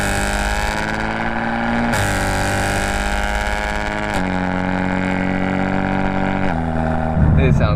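BMW fitted with ARM resonated downpipes and an Active Autowerke equal-length mid pipe cruising in third gear, a steady loud drone that holds on even pitch tones and steps down in pitch at each shift.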